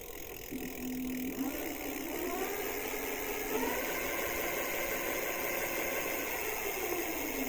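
A new electric bike's motor is tested on the throttle, giving a soft rising electric whine that sweeps upward over steady background noise, faint and close.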